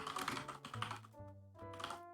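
Typing on a computer keyboard, steady clicking keystrokes at close range over a tonal background hum, with no voices.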